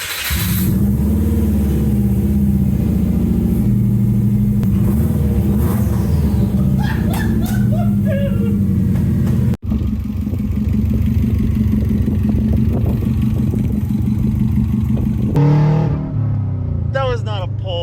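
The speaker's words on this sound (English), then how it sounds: "We start with an open downpipe, then throw on the best sounding exhaust I've ever heard." An engine-swapped Subaru GC8 with an open downpipe revs loudly and repeatedly, rising and falling with sharp climbs in pitch, a brief cut midway, then more hard revving and a crackling finish.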